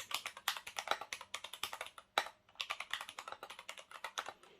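Rapid typing on a Kemove DK61 60% mechanical keyboard with lubed Gateron Brown switches: a dense, close run of keystrokes with one brief pause, no voices.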